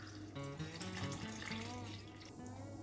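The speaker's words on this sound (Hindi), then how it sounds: "अब इसमें हम 1 गिलास के करीब पानी ऐड करेंगे।" Water from a glass pours steadily into soya chunks masala cooking in a pan, a continuous splashing, gurgling stream close up with no talking.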